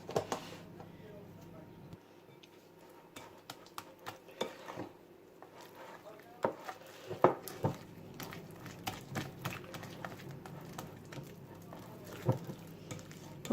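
Bread dough with room-temperature butter is mixed: quiet, irregular wet clicks, taps and scraping bursts that grow busier over about thirteen seconds against a low, hushed background.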